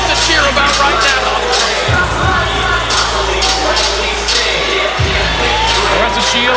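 A packed crowd roars and cheers continuously at a women's boxing match in Flint, Claressa Shields vs Danielle Perkins. Dense, loud arena noise with whoops and shouts, and a few deep thumps underneath.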